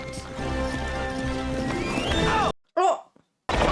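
A horse in a period film scene neighs loudly and close, with hooves clopping over it, then the sound cuts out before a short burst of voice-like sound and a final loud return.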